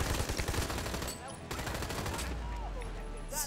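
Rapid bursts of automatic gunfire from a firefight in the video game Army of Two: The Devil's Cartel, sharp repeated shots near and loud, with in-game sounds and a voice around them.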